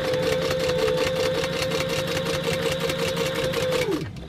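A sewing machine runs steadily at slow speed while stitching a seam, producing a continuous mechanical hum with fast, even needle ticks. It is close and clear, then winds down to a stop at the end.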